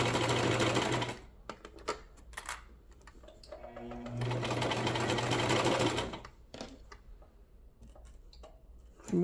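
A sewing machine stitches scrap fabric for a small chapstick holder, running in a fast whirring burst, then stopping with a few clicks while the fabric is pivoted, then running again before quieter handling sounds.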